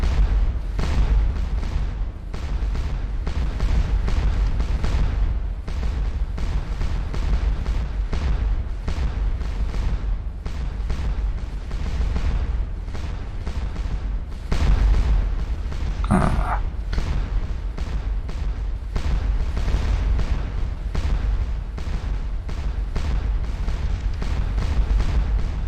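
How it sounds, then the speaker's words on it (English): Massed Napoleonic artillery firing in the Waterloo-era battle game Scourge of War, at Ligny: a dense, continuous roll of booming cannon reports and deep rumble, with one sharper nearby blast partway through. "As do these guns. We're not putting down the devastating fire that I'm used to."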